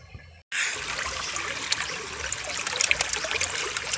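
River water flows and trickles over gravel in a steady, close rush after a short quiet start, with no talking.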